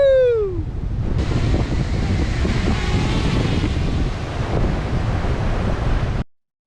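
Sea waves washing onto red-sand Ladghar Beach at Dapoli, a steady continuous roar of surf mixed with wind buffeting the microphone, loud and unbroken, after a brief whistling sweep at the start.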